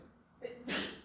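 A single sneeze bursts out near the end, preceded by a short sharp intake of breath; close and fairly loud in an otherwise quiet lecture room.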